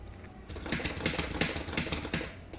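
Fast, steady keyboard clicking as someone types code for a basic Python while-loop lesson, with a quick run of close, crisp keystrokes throughout.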